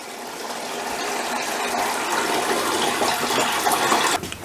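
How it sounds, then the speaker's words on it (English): Homemade lilac wine bailed with a jug into a large colander, a continuous gushing, splashing pour of liquid that swells and runs steadily before a brief sputter at the end. "Now if you haven't got a steady hand, bail it over with a jug."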